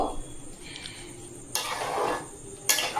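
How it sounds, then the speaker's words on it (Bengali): Mango pickle with spices is stirred in a pot, with soft scraping and faint sizzling broken by two sudden louder bursts of scraping clatter near the end. "নেড়ে চেড়ে নেব"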